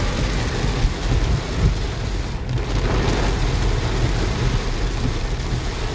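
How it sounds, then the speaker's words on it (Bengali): Heavy rain pours down during a road trip near the India–Bhutan border, a loud, dense, unbroken hiss and drumming heard from inside a vehicle, with no one talking. "প্রচন্ড জোরে বৃষ্টি শুরু হয়েছে এবার"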